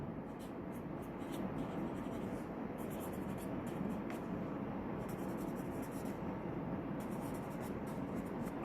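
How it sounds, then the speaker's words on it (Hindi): Chalk or marker scratching steadily across a board while equations are written out during a math lecture on vectors, a continuous textured scraping with brief pauses between strokes, fairly close and without talk. "इनको मैं तरतीब से लिखने लगा हूँ"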